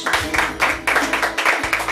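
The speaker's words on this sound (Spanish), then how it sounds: "Un aplauso a nuestro Dios." A church congregation clapping in steady rhythmic bursts during worship, loud and close, with a low hum underneath.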